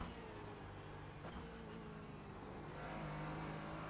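A Porsche Cayman GT4 race car engine drones at the Nurburgring in the iRacing video game, a steady mid-pitched hum under tire and road noise, faint and continuous without any voices.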